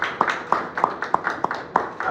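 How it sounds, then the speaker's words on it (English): Steady, evenly spaced claps from an audience at the Africa's 100 Most Notable Herbal Heroes Awards 2025 ceremony, a close run of sharp hand strikes repeating about three times a second with a soft background hum. "Let's give him a round of applause."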